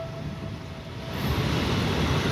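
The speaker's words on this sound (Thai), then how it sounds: "รถไฟฟ้ามาพอดีนะครับ" An elevated MRT metro train rumbles past overhead near Bang Khun Non station in Bangkok, its low roar swelling and growing louder toward the end, with no voices.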